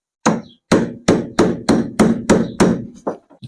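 A hammer strikes about eight times in a steady rhythm, sharp close blows, followed by a few lighter taps, during work on a long-unrun Fiat 126.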